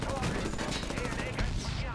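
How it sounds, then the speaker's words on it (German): Gunfire at a vehicle's tires in the video game Medal of Honor, airplane graveyard level: dense, continuous shots over a busy game mix, steady and loud throughout. "scheinbar auf die Reifen zu schießen"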